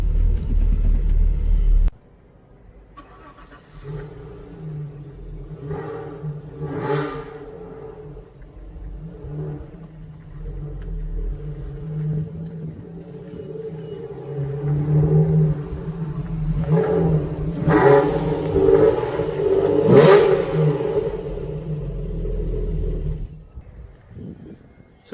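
An Alfa Romeo GTV V6, recently repaired after sitting abandoned for years, rumbles along at moderate volume, its engine note rising and falling as it revs and drives, with no talking.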